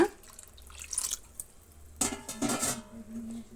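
Water is poured into a bisibele bath mixture in a pot, with a few brief splashing pours and soft liquid sloshing set against quiet kitchen background.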